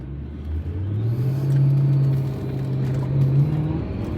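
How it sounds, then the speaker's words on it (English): A BMW E92 M3 with a DCT transmission on a test drive after a fluid top-up, its engine droning steadily and rising in pitch as it pulls, close and loud from inside the car, with no talk. "we're going to get the car back on the ground, and we're going to do a little test drive"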